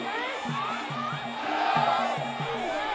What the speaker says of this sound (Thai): โอ้โหเสียงเชียร์นี่ระงมไปหมดแล้วครับ